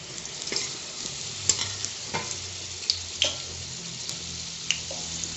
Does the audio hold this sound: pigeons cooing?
no